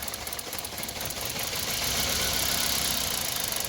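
A Toyota Corolla engine idles with one fuel injector pulled, giving a loud, continuous mechanical rumble with a faint knocking and vibrating texture that holds steady throughout, close to the engine bay and with no talking.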